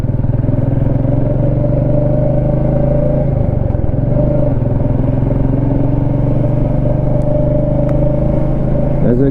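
A Royal Enfield Meteor 350 rides along with a steady, loud, bubbly single-cylinder engine thump and low rumble, with the engine note dipping briefly midway.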